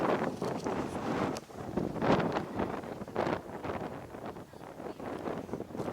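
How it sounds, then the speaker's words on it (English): Strong gusty wind buffets the microphone on the exposed summit of Cadillac Mountain in Acadia National Park, a steady roar rising and falling in surges with no one speaking. "It's also a lot windier."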